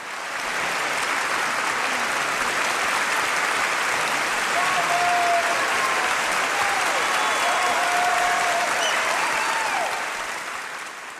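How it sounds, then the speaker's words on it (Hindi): An audience gives Charlie Chaplin a loud, sustained ovation at his honorary Oscar ceremony, with dense applause rolling on without a break and a few faint whistle-like tones riding on top. "उनके सम्मान में 12 मिनट तक बिना रुके तालियां बजती रहीं"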